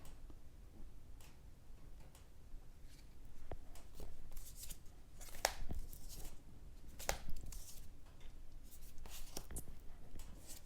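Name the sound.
shuffling a Mystical Shaman pocket tarot card deck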